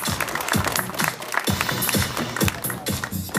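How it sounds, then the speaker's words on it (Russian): Enthusiastic applause from the audience at a regional boxing federation ceremony in Nizhny Novgorod, steady clapping that carries on without a break and sounds like a sizeable crowd in a hall. "Ваши бурные аплодисменты, друзья!"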